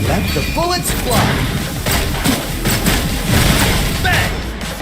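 Gunfire in the video game Wuthering Waves: dense, continuous bursts of shots and booming impacts that fill the whole stretch at steady, loud volume, with in-game voices mixed in.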